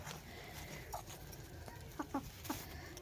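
A broody hen sitting on a clutch of eggs gives a few short, soft clucks in quick succession, fairly close against a quiet, faintly hissing background with no talk.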